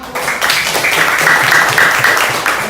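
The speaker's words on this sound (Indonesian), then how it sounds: "tepuk tangan dong buat" Children in a classroom applaud together, a steady, moderately loud patter of many small hands clapping that lasts a few seconds before tapering slightly.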